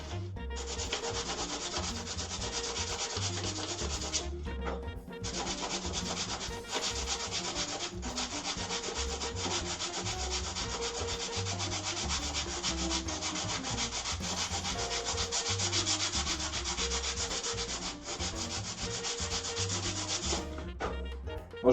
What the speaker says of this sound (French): Donc le fait de poncer aussi, ça va permettre de casser ça pour que la peinture par la suite accroche un peu mieux.